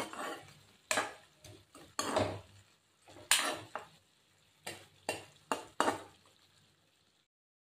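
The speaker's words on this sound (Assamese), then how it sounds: "অকমান লৰাই দিম" Local chicken meat is stirred in a pot, producing a series of irregular scraping and clattering strokes of a utensil against metal, close and fairly quiet, with brief pauses between them before falling silent.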